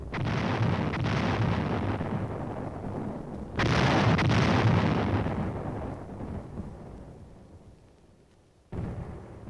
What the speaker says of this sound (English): Under cover of the barrage